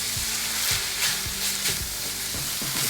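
A tablespoon of garlic paste sizzles in a hot pan for taco salad, with a continuous close frying hiss and several soft scraping stir strokes.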